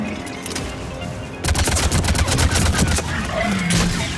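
Sustained volleys of gunfire from Mass Effect 3 crackle with a dense stream of rapid shots that grows louder midway, with faint background effects behind.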